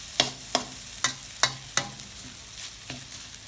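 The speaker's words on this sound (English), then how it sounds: "Scoop and turn it, flip it over, and the corner, spread the noodles out away." Rice noodles with greens are stir-fried in a pan, with about eight sharp spatula scrapes and flips landing roughly every half second over a soft sizzle, close and clear, without speech.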